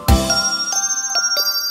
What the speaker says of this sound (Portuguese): Quatro sinos velhos, ding, dong, ding, ding, dong, ding.